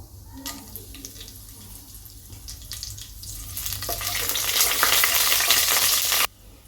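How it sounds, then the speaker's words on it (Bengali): Whole spices (cumin seeds with peppercorn, cardamom and clove) fry in hot oil, starting with quiet crackles and light scraping, then swelling into a loud, steady sizzle that stops suddenly near the end. "ফোড়নটা ভালো করে ভাজা হয়ে গেছে"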